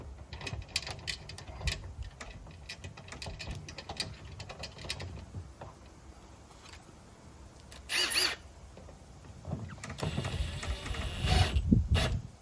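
Ratchet clicks and metallic handling sounds from tightening bolts while assembling a three-piece polycarbonate awning, with irregular close clicking and a few louder rattling bursts.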